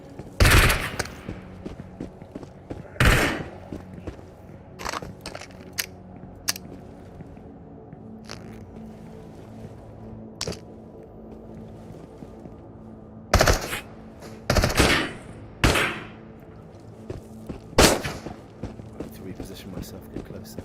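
Gunfire in the shooter Into the Radius with the Scavenger mod, loud broadband shots scattered irregularly, some single and some in quick clusters, over a low steady game ambience with talking in places.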